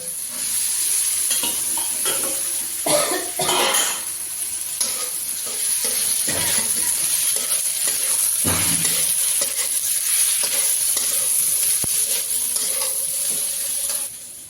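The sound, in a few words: green chillies and potatoes frying and stirred in pan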